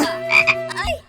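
Frog croaks repeatedly up close during a fishing outing with friends, loud and rhythmic calls rising and falling with no talk over them.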